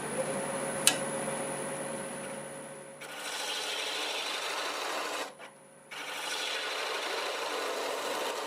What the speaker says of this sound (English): I'm just going to do a little shaping on the end of this. Using a spindle gouge.